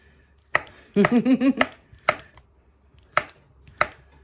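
A knife chopping through bananas on a cutting board, a quick burst of four or five rapid cuts followed by single spaced chops, crisp and close with silence between strokes.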